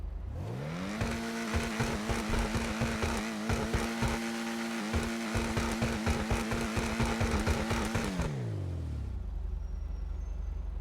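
Engine of the 5000 car in the GTA Online game, a loud droning rev that climbs, holds at a high pitch with rapid fluttering pulses, then winds down and fades to a low idle.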